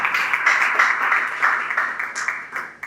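Audience applause following an introduction at a business event on financing young entrepreneurs' projects, dense steady clapping from many hands at close range, swelling and easing slightly for about three seconds with no speech over it.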